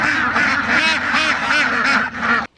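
Several domestic ducks quack noisily and continuously at close range, loud overlapping honking calls in quick rhythmic bursts that stop abruptly.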